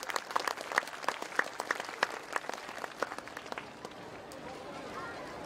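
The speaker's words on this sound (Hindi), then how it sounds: "आपसे मेरा नम्र विनय है कि ताली बजाकर इन बच्चों का प्रशंसा हम सब करें।" An audience claps for schoolchildren at a school annual function, a dense burst of many hands that thins after a few seconds into a quieter wash of room noise, somewhat distant.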